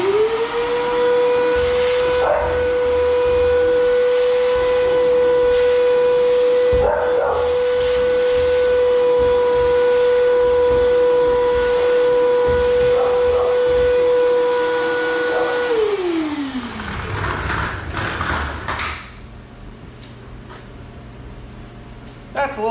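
A vacuum cleaner sucks dirt away from a vehicle's fuel system, a loud steady whining whoosh that holds for about fifteen seconds before winding down, with brief bumps and rattles as the nozzle moves.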